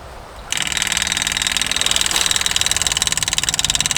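An electronic fuel pump on an IMT 560 tractor clicks on and runs with a rapid, steady ticking buzz, loud and close, after a brief quieter moment.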